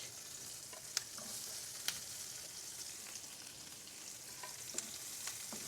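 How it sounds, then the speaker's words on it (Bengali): Chopped onion and green chilies sizzle in hot oil for a Bangladeshi noodle dish, a steady quiet hiss with a few sharp clicks of a spatula stirring the pan, no voices. "একসাথে ভালো করে মিক্স করে কিছুক্ষণ ফ্রাই করে নিতে হবে"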